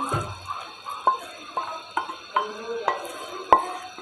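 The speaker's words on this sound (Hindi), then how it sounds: "दूध पकने लगा है, फ्राई किए हुए नट्स शामिल कर देते हैं।" A spoon stirs fried nuts into simmering milk for sheer khurma in a pot, making a regular series of soft scrapes and liquid swishes, about one every half second, close and clear.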